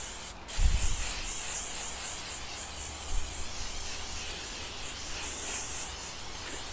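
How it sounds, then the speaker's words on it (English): A short spray of cooking oil hisses onto chicken wings near the start, followed by soft rubbing and faint handling noises under a steady hiss. "I'm going to put just a little bit of my spray oil on just to help them get crispy"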